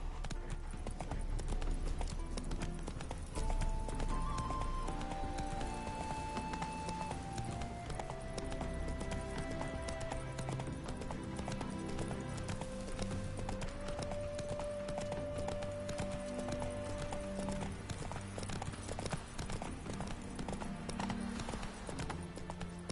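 Geralt's horse Roach galloping in The Witcher 3, a rapid continuous clip-clop of hooves close by, with an occasional faint whinny and soft music and ambience underneath.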